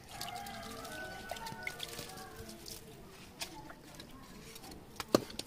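Water pours and splashes steadily nearby, with scattered drips and trickles, and a faint bird calling in the background.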